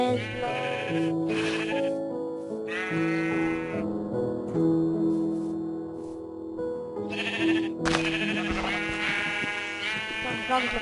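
Sheep in the Minecraft video game bleat in several short, repeated calls, clear and close, spaced across the clip over other game sounds.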